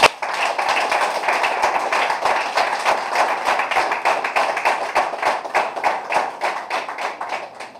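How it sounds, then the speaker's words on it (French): An audience claps steadily throughout at a diaspora political rally, the dense applause fairly loud and continuous with no voices over it. "Je voudrais d'entrée de jeu vous demander d'applaudir pour nos compatriotes des États-Unis en général."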